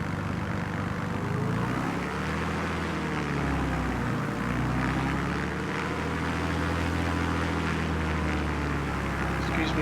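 A Yakovlev Yak-9 propeller fighter in Microsoft Flight Simulator 2020 on Xbox Series X, at Mount Beauty, Victoria, drones with a continuous throaty engine and propeller hum that slowly wavers in pitch, steady and close for ten seconds.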